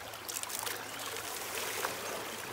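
Water washes gold prospecting material down into a bucket during North Carolina gold prospecting with a double stack RPE, a steady trickling, streaming flow heard close and continuous throughout.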